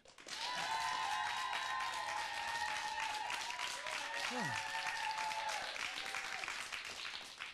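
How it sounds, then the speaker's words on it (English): Sustained audience applause fills the space, steady and loud throughout, with sustained tones ringing over the clapping. "So good, they applaud themselves."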